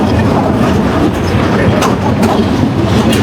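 The Joyantika Express passenger train on its Dhaka to Sylhet run rumbles loudly and continuously, with a steady clickety-clack of wheels on rails heard up close.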